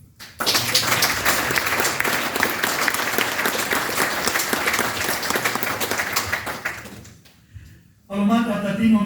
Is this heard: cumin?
no